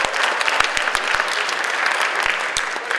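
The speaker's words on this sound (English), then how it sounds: "Everybody clap it up for Ms. Fredericks and her team." School assembly audience at a high school Black History Month program applauds, a dense, continuous roar of many hands clapping, with a few sharper individual claps standing out near the listener.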